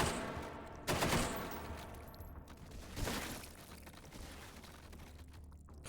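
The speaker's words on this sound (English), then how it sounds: "Machine gun plus incendiary." Video game machine gun loaded with incendiary rounds, firing loud bursts that crack and roll off, with a sharp volley near the start and another a couple of seconds later over a steady noisy background.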